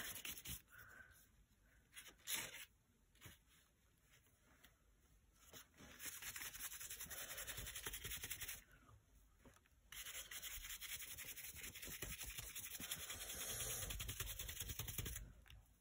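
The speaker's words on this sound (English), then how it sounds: "You want to kind of try and dry brush it as much as you can" A brush dry-dragged across paper with watercolour paint, soft scratchy rubbing strokes in uneven bursts, very quiet and close with pauses between passes, nobody speaking.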